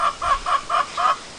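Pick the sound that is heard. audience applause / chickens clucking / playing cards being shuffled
chickens clucking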